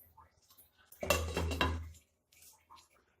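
A metal lid clanks and rattles down onto a pot of Punjabi-style rajma in a home kitchen, a single close, bright clatter about a second long amid otherwise quiet surroundings.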